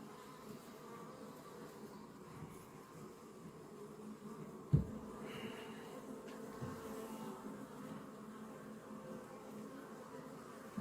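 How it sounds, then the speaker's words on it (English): Honeybees buzz around an open hive during an inspection, a soft, continuous drone of many insects close by, with a few faint knocks and handling sounds and no talking. "There are lots of bees that have crawled on the side of the hive body"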